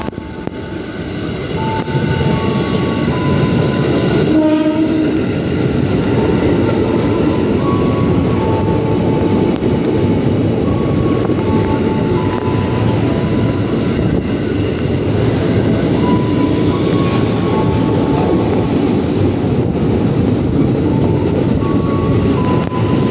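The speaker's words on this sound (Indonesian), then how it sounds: "KRL arah Bekasi merapat di stasiun Matraman" A KRL commuter train bound for Bekasi rolls into Matraman station with a steady rumble and clattering wheels, squeals of braking and a few high tones, loud and close throughout.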